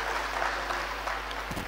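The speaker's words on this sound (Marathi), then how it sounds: "एकदा जोरदार टाळ्या वाजवायच्या." An audience at a Marathi talk on entrepreneurship breaks into loud, dense clapping that carries on steadily through the brief moment.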